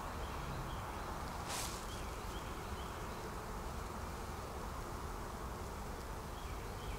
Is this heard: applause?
no